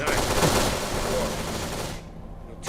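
Automatic AK-47 fire from the video game Kane and Lynch 2 crackles as a loud, dense burst of rapid shots that cuts off abruptly near the end.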